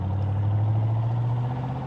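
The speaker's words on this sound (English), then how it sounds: "the engine sound on this is fantastic" A 1965 Corvette engine running, a steady low rumbling drone that holds even and fairly loud throughout, with no voices over it.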